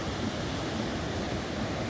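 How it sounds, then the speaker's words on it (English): Whitewash-heavy surf of roughly four-foot waves on a Central American beachfront: a steady, loud roar of breaking water with wind noise across the microphone and no voices. "4 feet waves right here, or it could be higher actually."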